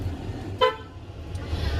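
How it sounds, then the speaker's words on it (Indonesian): A UD Trucks Nissan Diesel truck sounds one short, loud toot of its horn from close by, standing out over a quiet cab background. "Kemudian juga ada klaksonnya."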